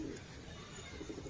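A pigeon coos softly while perched on a net near a home, low repeated calls close by with no talk over them.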